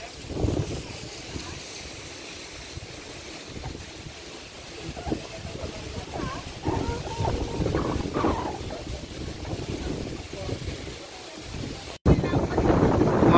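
Very strong wind roars across the microphone at a lakeside viewpoint overlooking Laguna Lake, steady buffeting gusts that swell louder toward the end.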